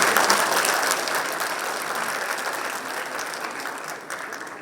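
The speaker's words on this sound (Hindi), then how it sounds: "एक बार पूरे मंच के लिए जोरदार तालियां बजाते हैं और अपने आप के लिए।" Sustained applause from the crowd at a business summit in Delhi, a thick, continuous patter of many hands that is strongest at the start and slowly softens.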